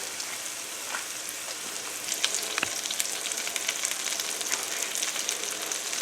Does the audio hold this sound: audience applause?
no